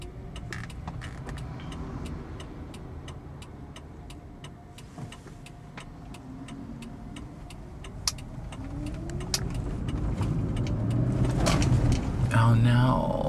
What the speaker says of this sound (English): So, what's with the traffic today, though? It's never this bad.